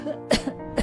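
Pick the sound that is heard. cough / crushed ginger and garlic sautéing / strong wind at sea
cough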